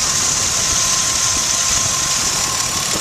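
The Duratec 2.5 liter V6 of a 2000 Ford Contour Sport SE, a 24-valve double overhead cam engine, runs at a steady idle, a close, even, continuous hum with a faint whine.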